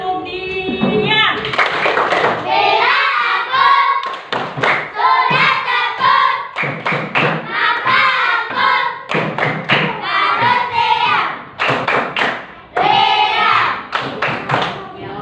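A class of third-grade pupils performs the 'tepuk diam' clapping routine, rhythmic bursts of claps and thuds alternating with the children chanting along, loud and close in a classroom.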